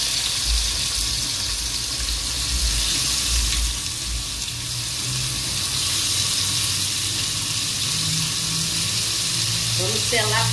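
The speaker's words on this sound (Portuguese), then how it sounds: "Vamos colocar para selar o bacalhau." Cod searing in a hot frying pan gives off a steady, close, even sizzle that holds for the whole stretch, with soft low rumbles underneath and no talking.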